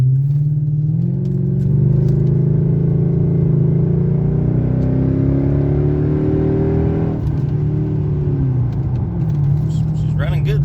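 A straight-piped Mercedes E500 V8 is heard from inside the cabin as a loud, steady, rumbling drone. It rises in pitch as the revs build, drops off briefly, then carries on.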